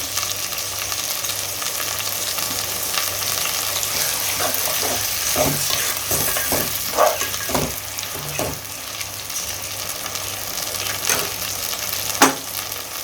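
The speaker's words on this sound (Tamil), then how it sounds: "தக்காளி கொஞ்சம் நேரம் வதங்கட்டும்." Tomatoes sauté in a pan for a drumstick fish curry, giving a steady close sizzle with a few soft stirring clicks and scrapes throughout; no one speaks.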